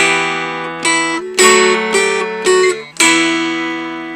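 Mountain dulcimer holiday tune picked with single passing melody notes between fuller chords, bright plucks ringing out in a gentle uneven rhythm, close and alone.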